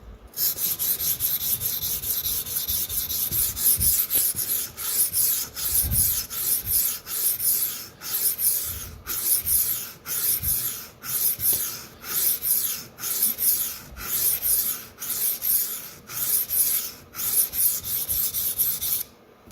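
A dull Sabatier paring knife is sharpened on Shapton and Suehiro whetstones in steady, regular gritty rasping strokes, each close and crisp, repeating roughly once per second.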